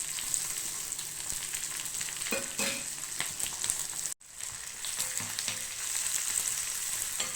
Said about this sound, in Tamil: வெங்காயம் வந்து நல்லா ப்ரௌன் ஆகிற வரைக்கும் வதக்கிட்டு